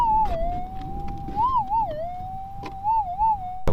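Metal detector signal over a buried target near the surface of a slope: a loud, steady electronic tone that wobbles and warbles in pitch, heard alone and close.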